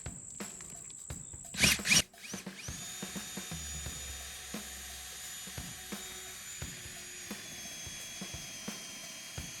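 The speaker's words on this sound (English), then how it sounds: "So I'm gonna drill this one now, just to double check." An electric drill bores into a tiny house roof during a DIY solar install, a loud burst of a couple of seconds followed by a steady high whine with faint clicks and knocks, recorded close.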